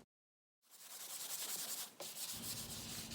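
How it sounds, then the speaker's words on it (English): After a brief silence, sandpaper lightly scuffs wooden kitchen cabinet doors in smooth, continuous strokes, close and moderately quiet. "Just a light sanding will do on these doors, nothing major, just scuffing it up a little"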